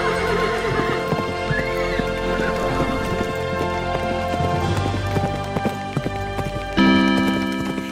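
A horse in a Hindi fairy tale about a magic horse neighs and whinnies while its hooves clip-clop in a steady rhythm, set against a continuous music bed, with no talk.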